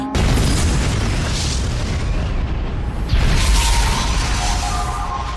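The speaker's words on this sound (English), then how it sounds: "Fortunately, Kotori came to stop the explosion" A loud, rumbling explosion in an anime fills the clip, followed by a second deep boom midway and a sustained roaring aftermath.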